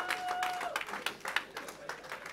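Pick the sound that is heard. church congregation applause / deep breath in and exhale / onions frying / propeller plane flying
church congregation applause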